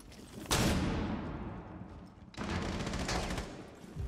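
Two flashbang grenades going off in a tactical shooter game, each a sharp blast followed by a long hissing ringing decay, moderately loud with a gap of about two seconds between them.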